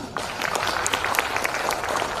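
Applause from a crowd at an Indonesian legal association's national meeting, a steady even patter of many hands filling the room, moderately loud and alone.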